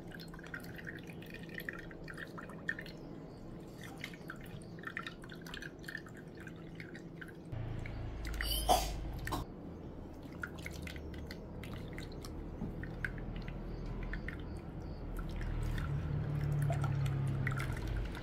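Juice from scotch bonnet pepper paste thinned with water strains through a strainer, dripping and trickling close by, with a louder splashing pour partway through and a steadier flowing trickle near the end.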